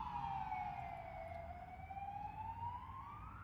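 A single siren on an emergency vehicle wails steadily in the distance outside, its pitch sinking slowly and then climbing again over a low rumble of passing traffic, with no voices.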